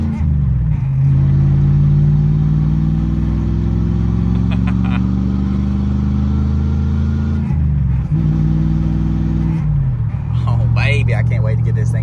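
A pickup truck with an NV3500 manual transmission, just fitted with a new tail-shaft seal, drives off on the road, its loud engine droning and climbing in pitch, dipping at gear changes before rising again.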